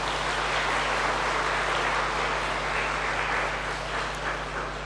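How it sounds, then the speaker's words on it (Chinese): Listeners in a Buddhist sutra lecture hall applaud in a steady, even wash of clapping that tapers slightly near the end, over a low electrical hum from the room's sound system. "所以我们要热烈的掌声感谢在座的每一位"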